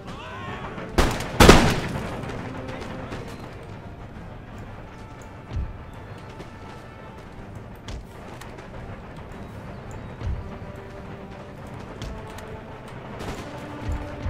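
Musket volleys from American Grenadiers against Prussian and Grenadier Guards in Empire Total War, a loud close crackling burst early followed by scattered distant shots over a busy battlefield ambience.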